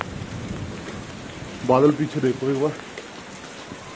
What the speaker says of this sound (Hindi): बाकी बारिश बहुत जबरदस्त है